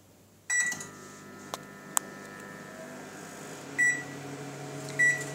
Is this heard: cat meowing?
no